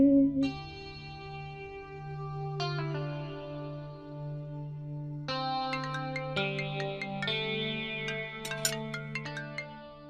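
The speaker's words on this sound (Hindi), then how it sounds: "गायत्री दीदी का फोन" A melodic electronic phone ringtone plays a bright chiming tune with sustained tones and echoing notes, repeating without any voices.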